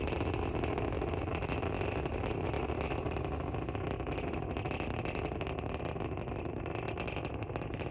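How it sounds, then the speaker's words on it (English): Falcon 9 first stage rocket engines during ascent, a loud, steady, dense roar with crackle and broadband rumble that holds unbroken throughout. "We can hear the characteristic rumble as the first stage heads into space."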